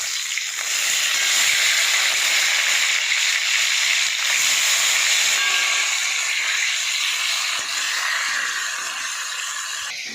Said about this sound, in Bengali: আমার তেল গরম হয়ে গেছে, এবার আমি মাছগুলো ভেজে নেব।